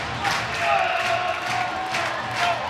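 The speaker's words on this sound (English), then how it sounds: "It's a standing ovation all the way to the finish for the Sheffield Steelers." Home ice hockey crowd cheering and roaring in a standing ovation for the Sheffield Steelers, a steady, dense wall of arena noise with swells, while a commentator talks over it.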